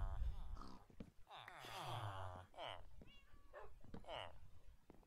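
Several short cat meows from a cat in the Minecraft video game, scattered between bursts of nearby talking.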